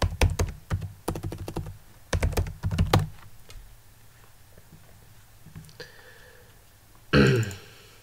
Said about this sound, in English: enter current user password